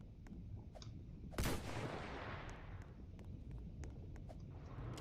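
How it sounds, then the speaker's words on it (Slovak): Gunfire aimed at the player in a video game: sharp distant cracks scattered over a steady low rumble, with one louder, closer shot standing out near the middle, no talking. "No a už po mne strieľajú."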